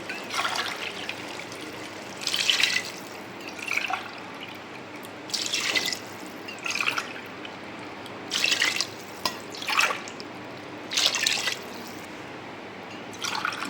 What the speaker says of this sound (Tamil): 5 டம்ளர் தண்ணி ஊற்றிக்கலாம்.